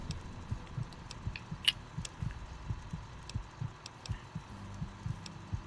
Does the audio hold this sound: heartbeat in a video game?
yes